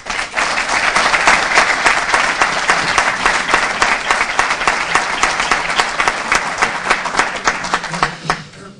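Loud, sustained applause from an audience in a conference hall in Castro del Río, honouring local Barcelona, Madrid and Córdoba football fan clubs, dense continuous clapping filling the room from start to finish.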